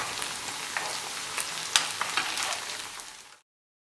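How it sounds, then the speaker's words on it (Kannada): Cauliflower pieces for dry gobi frying in a pan over a medium-low flame, giving a steady close sizzle and crackle with a few sharper pops, alone until it stops abruptly near the end. "ಇದನ್ನು ಮೀಡಿಯಮ್ ಟು ಲೋ ಫ್ಲೇಮಲ್ಲಿ ಚೆನ್ನಾಗಿ ಫ್ರೈ ಮಾಡ್ಕೋಬೇಕು."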